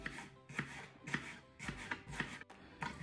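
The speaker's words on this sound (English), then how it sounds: "just slice them up whatever way you want" Knife slicing through fresh apples on a board, a series of crisp, evenly spaced cuts about every half second, close and clear with no talking.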